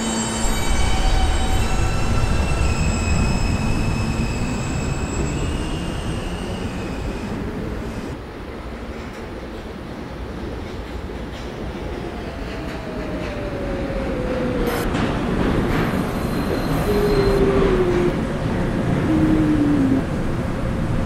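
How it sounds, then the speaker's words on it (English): A Roblox subway train rumbles loudly and steadily, rolling along the tracks with rising squealing tones near the end as it moves. "This is a Potatoburg bound D train."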